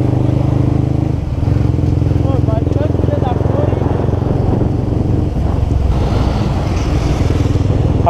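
A Twister motorcycle engine drones loudly and steadily while riding on a street, with a rough low rumble and some voices talking over it.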